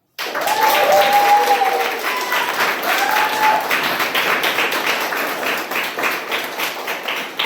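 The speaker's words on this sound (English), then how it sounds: "Please help me with a thunderous round of applause to welcome our distinguished Toastmaster" Loud, sustained applause from a Toastmasters club meeting audience welcoming a speaker, a dense continuous roar of clapping with a brief cheer near the start, slowly easing off.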